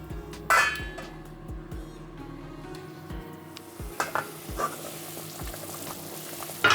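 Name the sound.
pot of Jamaican vegetable soup boiling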